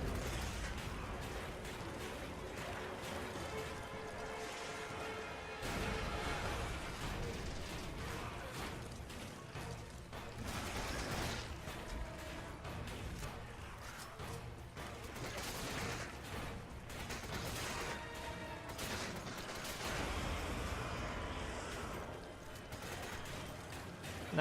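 Gunfire in Resident Evil 5 as a player shoots at a large creature: sustained dense shooting and impacts, moderately loud, blended with steady game background noise and no talking.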